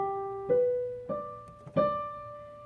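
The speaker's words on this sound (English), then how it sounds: "if you were to slur those notes the best that you could on the piano, you make them as smooth as you could." Piano playing a short slurred line of four notes stepping upward, each joined smoothly to the next without gaps, played alone at a soft level and ringing out at the end.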